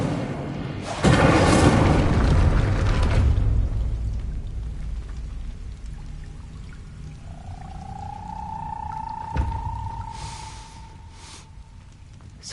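A spell blast in Hogwarts Legacy: a loud, fiery whoosh bursts out, then roars on for a couple of seconds before easing into a quieter crackling tail, with a sustained tonal hum rising later.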